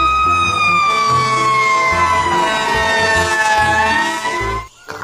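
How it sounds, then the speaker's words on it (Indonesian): A loud fire truck siren wailing steadily up close, its tone sliding slowly lower, with engine rumble underneath before it cuts off abruptly. "Wow, ini ada mobil pemadam kebakaran."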